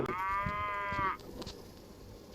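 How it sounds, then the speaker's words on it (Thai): A cow moos in a video game, one loud, tonal, sustained call lasting about a second that stops abruptly and leaves quiet background. "นั่นวัวนะแล่นี่คือวัวฮะ"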